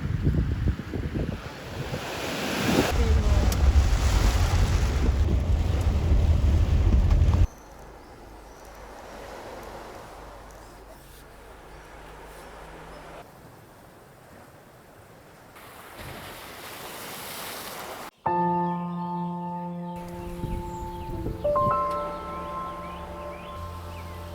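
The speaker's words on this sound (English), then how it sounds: "I'm at the beach right now" Wind roars and Mediterranean surf rushes loudly at first, easing into a softer wash of waves, with steady tonal sounds near the end.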